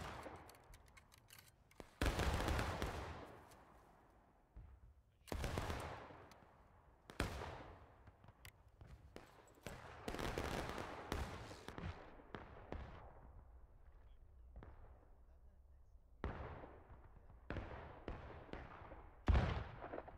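Battalions firing muskets in the Civil War video game War of Rights, with sharp cracking volleys and scattered single shots going off irregularly, some near and loud, others fainter and more distant, with quiet gaps between bursts.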